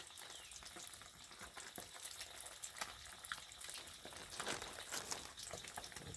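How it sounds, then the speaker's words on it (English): Small crappie fish fry in a pan on a Coleman camp stove, producing a continuous crackling, popping sizzle at low volume, with no one speaking. "Cooking up good. Can you hear that sizzle?"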